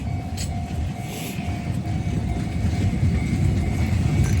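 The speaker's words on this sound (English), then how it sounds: "as the freight train motors by" A heavy freight train rolls past near a railroad crossing with a steady low rumble and rattle of wagons, a faint whine above it.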